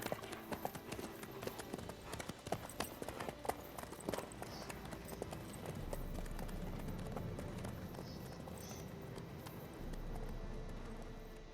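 Horse hooves clip-clop steadily at a trot in The Witcher 3, a rapid rhythmic stream of hoofbeats that stays close and fairly loud, joined midway by a low rumble of motion.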